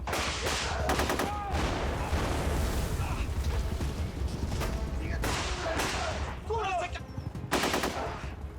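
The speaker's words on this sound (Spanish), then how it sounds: "¡Nos están disparando!" Bursts of automatic gunfire crackle through a tense shootout scene in a telenovela, rapid volleys recurring between pauses over a constant low rumble, with shouted voices mixed in.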